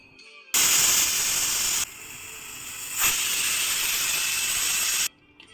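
A gas stove burns under a pressure cooker of little millet (samai) and moong dal porridge, giving a loud, steady rushing hiss for several seconds that dips briefly, then surges and holds before cutting off.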